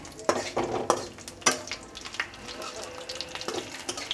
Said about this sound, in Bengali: মশলাটা আমার একটু ভেজে নিচ্ছি হালকা করে